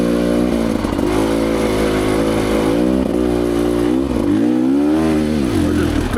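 A Rieju Ranger motorcycle strains up a rutted single-track hill, its engine loud and close, revving up and down in wavering surges as the rear tyre spins, with no talk over it.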